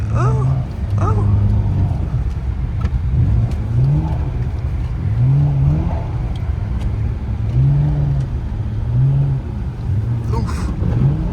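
BMW 335i drifting in snow at a roundabout, its engine revving in repeated rising surges, each climbing and falling back, loud and close, with people talking over the noise.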